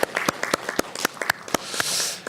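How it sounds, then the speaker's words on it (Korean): Church congregation clapping to encourage fathers during a service, a sparse, uneven scatter of individual claps rather than full applause, fairly close, with a brief wash of noise toward the end. "우리 격려의 박수를 좀 하면 좋겠습니다."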